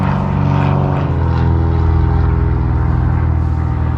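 A Chief propeller airplane at a fly-in, its engine a loud, close, steady droning roar with a rhythmic propeller throb that holds throughout.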